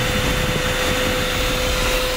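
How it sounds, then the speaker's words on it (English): A THISWORX handheld car vacuum runs with a loud, steady motor whine and airy rush, constant and close throughout. "When the vacuum does start up, you will definitely notice it."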